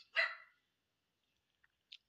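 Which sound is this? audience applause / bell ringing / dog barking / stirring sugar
dog barking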